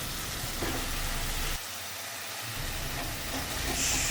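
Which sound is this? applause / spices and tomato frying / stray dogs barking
spices and tomato frying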